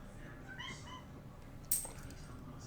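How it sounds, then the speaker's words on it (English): A pet cat named Lucy gives a brief, faint meow or two in a quiet room, with a sharper sound near the end. "You guys hear meowing?"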